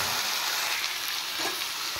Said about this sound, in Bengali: এবার একটু সাঁতলে নেব আলু আর